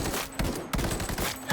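Rifle fire in a shooter video game comes as dense, close bursts of rapid shots, in several rhythmic volleys across a short span.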